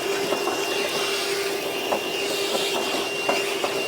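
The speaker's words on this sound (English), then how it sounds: "Now I'm just going to vacuum up the mess." A vacuum cleaner sucks up metal drilling debris in a truck bed, a steady loud whine and rush with a few faint rattles of particles being pulled in, with no talk.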